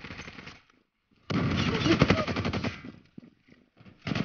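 A video game machine gun fires a loud, rapid burst of about one and a half seconds, preceded by a shorter burst and followed by a few scattered shots.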